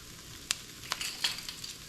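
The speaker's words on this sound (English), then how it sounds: "So to this, I'm going to add a tablespoon. Recipe calls for a tablespoon of garlic." Onions sizzle steadily in a pan as a tablespoon of garlic goes in for beef stroganoff, with a few sharp crackles and spoon taps over the constant frying hiss.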